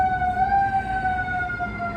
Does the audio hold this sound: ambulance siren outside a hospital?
yes